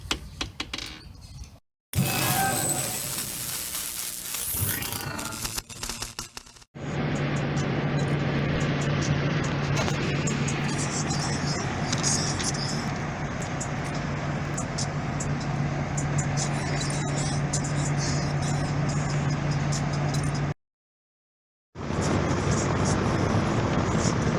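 A car is driven on an outing with steady road and engine rumble plus a constant low drone inside the cabin, broken by a few brief cuts to silence.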